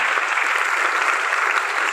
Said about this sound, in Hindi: एक बार जबरदस्त ताली